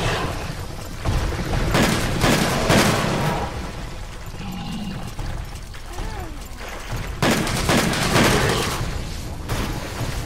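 Ranged shooting at a monster in Monster Hunter, heard as dense, continuous combat noise with repeated loud bursts of impacts and rumbling effects over a steady game background.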